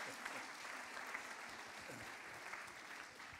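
An audience at an award ceremony for a writing prize breaks into steady, sustained applause, a dense wash of clapping heard from within the hall with no pause.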